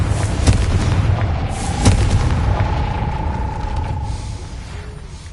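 A fire-blast spell bursts in a Hogwarts video game, with a low booming thud and crackle early on, then a long rumbling tail under a thin sustained tone, all fairly loud and without talk.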